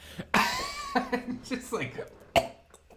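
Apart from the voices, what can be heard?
cough imitated by a comedian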